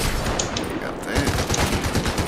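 Bursts of gunfire in a shooter video game, rapid repeated shots close and loud, layered with game noise and without clear talk.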